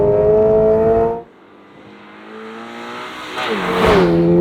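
A 2022 Subaru BRZ on a race track revs hard, drops off briefly around a gear shift, then climbs again under full acceleration through a corner, loud and close with a strong engine drone.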